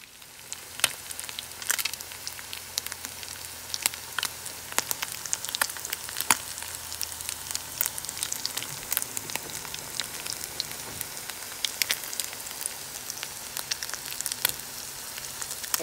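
Southern-style salmon cakes frying in a pan, a steady close sizzle with crackling pops spread through the whole stretch, no voices over it.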